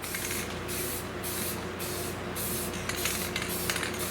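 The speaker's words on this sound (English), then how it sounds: "hold your spray can probably a good 12 to 14 inches away from the material, and then just give it a spray." A spray paint can hisses onto steel in a series of bursts, each lasting about half a second, with short gaps between sprays, close and fairly loud.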